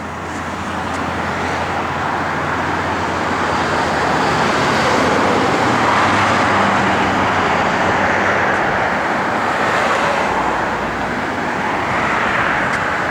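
A classic car's engine runs with a loud, steady roar that holds for the whole stretch, alone and without speech.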